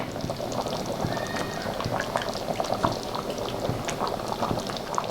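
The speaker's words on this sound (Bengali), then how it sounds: "তা কড়ার মধ্যে দিলে ভালো ফোটে" Mutton and potato curry bubbles and pops steadily in a wok, a dense, continuous simmer with sharp little bursts throughout.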